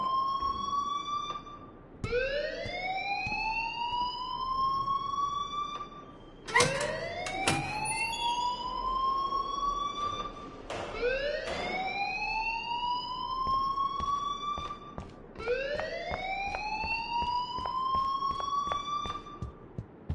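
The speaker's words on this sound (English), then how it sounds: "please turn off that alarm since that's your job" An alarm in the video game Life Is Strange wails in repeated rising siren sweeps, each swelling upward and cutting off before starting again, steady and unbroken over a low background.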